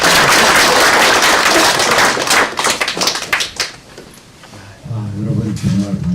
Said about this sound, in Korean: 여러분 큰 박수로 한학교 대표님 맞이해 주십시오